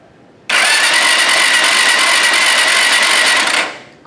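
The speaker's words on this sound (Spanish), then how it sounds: "le damos con el botón de arranque" A motorcycle engine fired with its electric start button in a workshop ignition test bursts suddenly into a loud, steady running roar, holds for about three seconds, then drops away as it is shut off.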